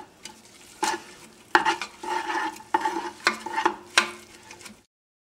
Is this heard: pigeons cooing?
no